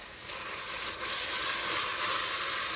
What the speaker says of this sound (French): je vais faire dorer ma viande avec البصل